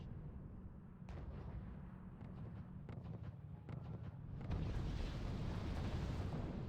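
Artillery fire in the real-time strategy game RUSE, on a snowy nuclear winter map: a steady rumbling wash of distant shelling and explosions with occasional sharper thumps, swelling louder toward the end, no voices.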